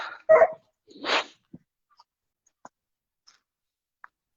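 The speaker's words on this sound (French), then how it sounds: "J'étais curieux de savoir si Chaya allait réagir à l'aboiement, mais non." A dog gives a few short barks and a whimpering yip near the start, then only faint scattered clicks in near silence.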